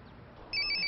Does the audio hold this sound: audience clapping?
no